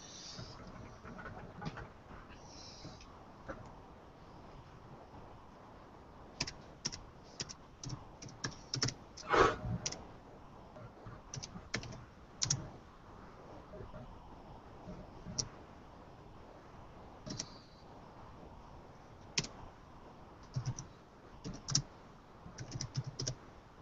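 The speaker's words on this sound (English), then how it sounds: "Can you guys see the code I'm typing in here?" Code being typed on a computer keyboard for a Commodore 64 vertical scroll, with irregular bursts of close, crisp key clicks spread across a long stretch, separated by pauses and light background hiss, with no speech.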